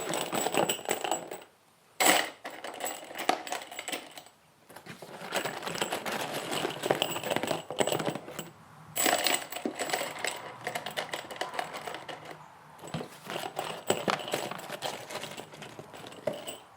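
Three-inch 10-penny nails tumbling into a cubby of a Milwaukee Packout organizer, a dense, continuous metallic clatter and jingle with a few brief pauses, close and fairly loud.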